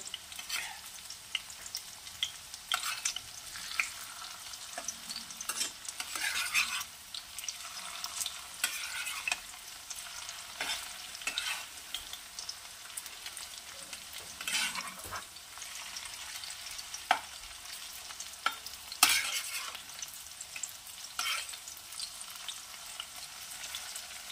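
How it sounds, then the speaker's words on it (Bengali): Mustard flower fritters frying in hot oil give a steady, close sizzle for the whole stretch, broken by frequent spatula scrapes and bursts of crackle as the fritters are turned, with no one talking. "হালকা আছে বড়াগুলোকে ভেজে নিতে হবে।"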